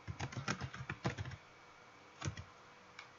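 Computer keyboard typing into a SolidWorks drawing title block: a quick run of close, crisp key clicks for about a second and a half, then quiet, with a brief short burst of taps later.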